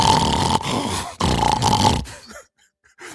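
A man imitates snoring with his voice, giving two loud, rough snorting breaths in a row, then trailing off into near silence.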